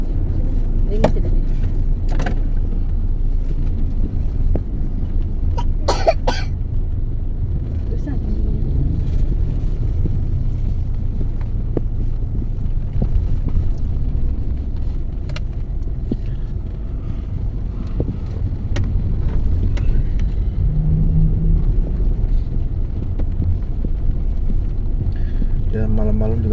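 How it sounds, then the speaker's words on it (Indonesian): Cars pass one after another on a busy provincial road at night, a continuous low rumbling traffic wash with wind noise and occasional louder passes. "Ya malam-malam juga masih banyak ya teman-teman mobil yang melintas ke sini"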